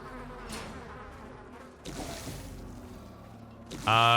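A buzzing insect hive in the video game Darkest Dungeon drones steadily through the whole stretch, a low continuous hum with game sounds layered on top and a brighter tonal chime near the end.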